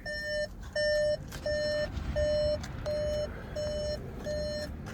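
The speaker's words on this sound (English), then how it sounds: "that little beep is going off. That's the fact that the ignition is on and the door is open" A 2022 VW Atlas door-open, ignition-on warning chime repeats in even pulses, about seven beeps of a bright tone, over low rumbling background noise.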